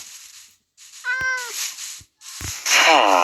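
A cat meows nearby, a drawn-out, wavering cry followed later by a second, higher meow, with brief clicks and noise in between.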